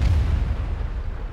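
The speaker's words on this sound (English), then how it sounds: "That was a laggy explosion for me for some reason" A deep, rumbling explosion from the World of Tanks tank game booms with heavy low-end roar that lingers through the whole stretch, loud and with no talking.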